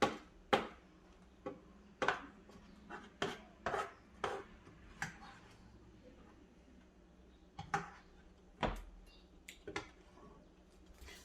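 Cooked mopane worms being served into a bowl, a series of sharp clinks and scrapes of a utensil against the dish, close and irregular, with quiet pauses between.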